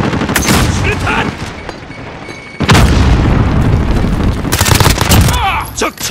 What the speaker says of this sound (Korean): 수류탄!